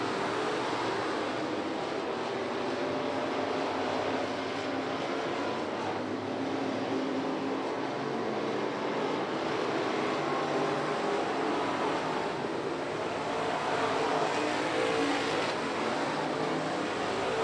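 Stock cars in a USRA feature race at Lucas Oil Speedway, engines roaring as a steady, distant broadband drone throughout, swelling slightly at points with no clear individual passes.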